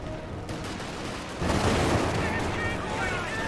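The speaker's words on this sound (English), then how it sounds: "MG-42, LMG firing away, hitting the captain" An MG-42 light machine gun fires in the World War II strategy game Company of Heroes 2, heard as sustained, dense gunfire amid other battle noise, with a commentator talking over it.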